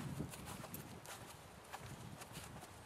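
A draft horse walks on a farm, its soft, muffled hoof clops falling in a steady, unhurried rhythm, faint and somewhat distant against low background rumble.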